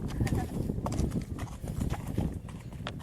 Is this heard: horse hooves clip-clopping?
yes